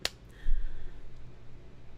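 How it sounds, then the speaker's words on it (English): One sharp hand clap rings out alone at the start, with a short decay and quiet room noise after it. "I'm gonna have to give them one clap."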